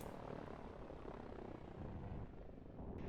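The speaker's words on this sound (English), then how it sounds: "But the helicopters are coming." Helicopters in the strategy video game Line War give off a steady, faint rotor and engine drone that stays at an even level.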